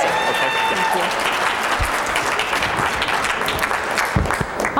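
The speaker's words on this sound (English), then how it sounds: "Oh my goodness, I haven't even said anything and all this applause." An audience claps loudly and continuously to welcome the keynote speaker at a dark sky festival in Fountain Hills, a dense, even roar of applause from start to finish with a few louder thumps near the end.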